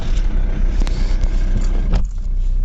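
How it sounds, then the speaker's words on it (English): A Ford Mondeo MK3 engine runs with a steady, close-up rumble, with no voices over it. "if I start the car"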